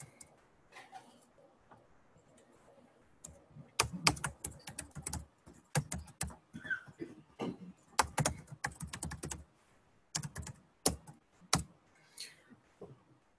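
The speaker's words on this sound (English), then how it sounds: "So I'm basically just typing in all of these." Keys clatter in quick irregular bursts on a computer keyboard, close and crisp, with short pauses between runs of typing.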